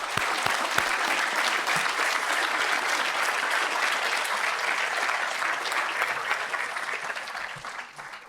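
An audience at a Royal College of Surgeons in Ireland conferring ceremony for new fellows, members and diplomates applauds loudly and continuously, a dense wash of clapping that fades slightly toward the end.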